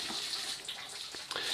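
Water pours steadily into a container of lime to make a lime-milk mix for mushroom substrate, a continuous close splashing hiss with a few small splashes.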